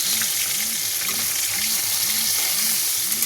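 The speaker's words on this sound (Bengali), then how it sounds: "পেঁয়াজের সাথে আলুটা একটু ভেজে নিলাম" Potatoes and onion fry in a pan with a loud, even hiss throughout, while a soft low pulsing hum repeats at a regular rhythm underneath.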